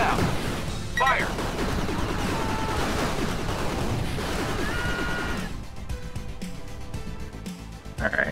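Units in the strategy game 9-Bit Armies: A Bit Too Far open fire, a dense continuous clatter of rapid shots and crashing impacts layered with background music, easing off after several seconds.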